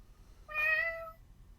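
A person imitates a cat's meow, one drawn-out, clearly voiced call rising over a faint low hum and fading out after about a second, with no other talk.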